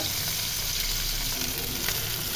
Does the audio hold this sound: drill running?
no